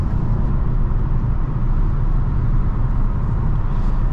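Steady, loud low rumble of road and tire noise inside a 2023 Nissan Altima cabin while crossing a bridge, a dense continuous drone with no talking.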